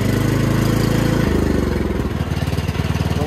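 Engine of a Cub Cadet XT1 lawn tractor runs close by, a steady loud low drone with a throbbing pulse that shifts slightly in pitch partway through.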